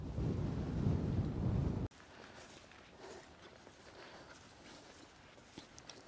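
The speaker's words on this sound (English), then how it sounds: "It is pretty windy, but got my little wind muff on, so hopefully it cancels out a lot of that wind." Strong gale-force wind buffets a microphone while winter wild camping, a loud roaring gust up front that drops abruptly to a quieter steady rush with faint rustles and taps.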